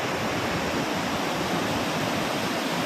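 Water of the Yamuna river rushes at Tajewala dam near the Hathnikund barrage, a loud, constant roaring wash with no voices.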